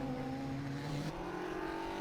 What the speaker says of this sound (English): That's the black and white car which enters the pit lane now